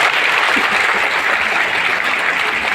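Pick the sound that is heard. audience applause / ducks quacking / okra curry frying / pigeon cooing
audience applause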